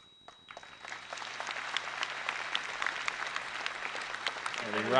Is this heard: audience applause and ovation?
yes